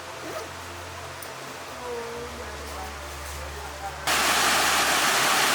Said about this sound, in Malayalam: പല തട്ടുകളിൽ നിന്ന് തട്ടുകളിലേക്ക് വെള്ളമൊഴുകുന്നു